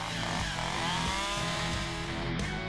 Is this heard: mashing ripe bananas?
no